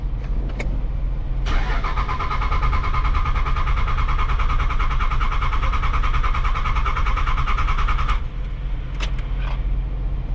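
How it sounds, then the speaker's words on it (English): A truck engine cranks with a long, steady, rapid chugging from the starter for several seconds, then cuts off, followed by a few clicks. "I had to crank it to prime it for the oil"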